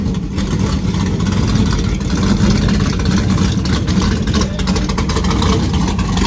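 An all-motor big-block car on big tires street races a GTR, its engine a loud, continuous low roar throughout, with faint crowd voices beneath.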